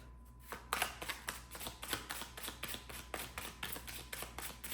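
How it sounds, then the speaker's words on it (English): Tarot cards are shuffled in a rapid run of crisp riffling snaps, close and soft, in a steady repeating rhythm. "When I started shuffling your cards"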